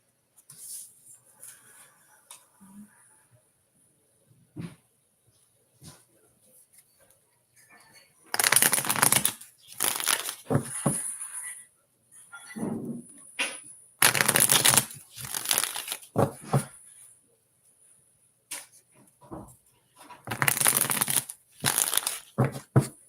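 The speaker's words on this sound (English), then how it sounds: "You've got a lot of shuffling tonight, Parks." Tarot cards are shuffled during a live reading, bursts of crisp riffling and flapping separated by quiet pauses and soft handling noises, close and loud, with no speech over them.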